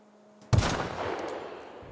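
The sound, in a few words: sniper rifle shot in video game The Outer Worlds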